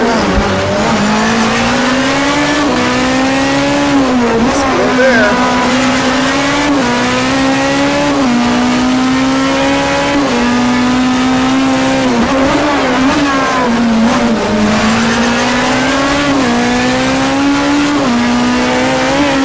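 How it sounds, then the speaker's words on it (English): Race car at the Long Beach PTM event accelerating hard out of a turn, a loud, close engine roar climbing steadily in pitch through repeated gear pulls, with brief dips at shifts, continuous throughout. "hard acceleration coming out the turn"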